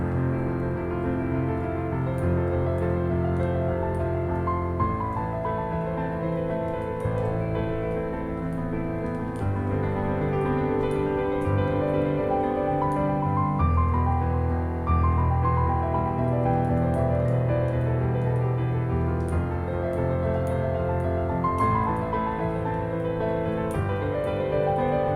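Piano improvisation with rolling left-hand arpeggios beneath sustained chords, a continuous flowing texture lasting about twenty-five seconds at an even, moderate level, alone without talk.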